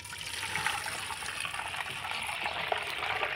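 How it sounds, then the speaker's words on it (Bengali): Dirty water from soaked raw potatoes is poured into a basin, giving a continuous close splashing gush with no talk. "এবার আমি কি করব, এই গামলার মধ্যে নোংরা জলটা ঢেলে নেব।"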